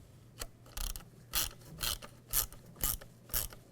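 A ratchet clicks in quick bursts as bolts are snugged into a plastic tailgate latch on a 2007-2013 Chevy Silverado 1500. About seven sharp, close ratcheting strokes come at a steady rhythm, with no talk.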